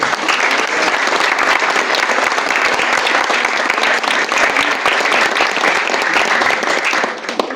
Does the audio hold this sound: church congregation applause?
yes